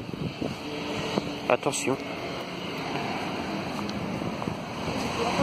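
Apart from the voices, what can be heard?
wind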